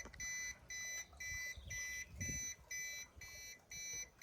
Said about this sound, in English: the beeping went faster, so that means it's about to go out.